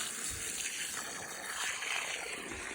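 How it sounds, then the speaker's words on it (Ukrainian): Cold water from a garden hose pours onto the ground under grape bushes in a vineyard, a steady, soft gushing hiss that is fairly faint and continuous, with no voices. "проливаю воду я під кущі зі шланга, воду лю холодну"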